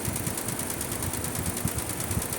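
An automatic embroidery machine stitches a design onto a hat, a fast, steady mechanical chatter with a rapid regular needle rhythm and constant motor hum, close and continuous with no voices.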